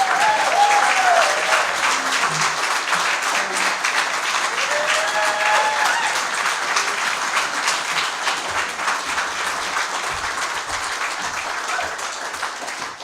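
Sustained audience applause fills a Libertarian convention hall in Indiana as Governor Gary Johnson is welcomed, steady and dense at first, then gradually thinning toward the end.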